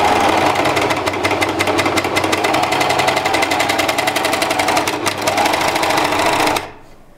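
A VERITAS Melanie overlock sewing machine stitches a seam at high speed, a loud, close, rapid mechanical whirr with steady needle chatter for over six seconds before it stops abruptly.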